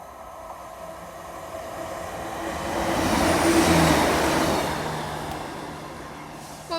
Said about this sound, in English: We have a Great Western Railway service non-stop. It's a class 150.